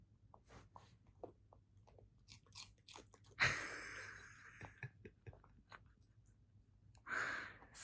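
A small dog crunches on a piece of celery nearby, with quiet scattered bites leading to one sharp loud snap and a later brief crunch, in an otherwise quiet room.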